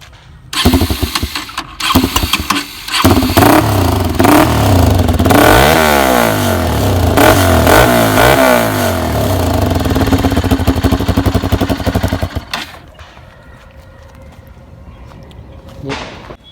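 A Bajaj NS200 motorcycle fitted with an aftermarket exhaust and dB killer starts up and revs hard in repeated rising and falling bursts, loud and close, then drops back to a lower idle.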